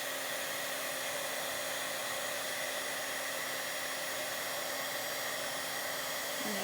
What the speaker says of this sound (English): grab your heating tool and start heating it up